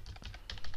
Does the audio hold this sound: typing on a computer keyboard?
yes